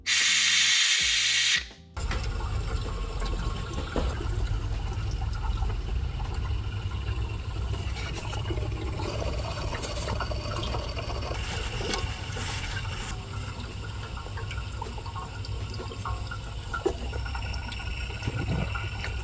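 An air-powered vacuum pump on a Subaru STI engine: a loud, steady pneumatic hiss and rumble starts after a brief burst of noise and runs continuously, close to the microphone.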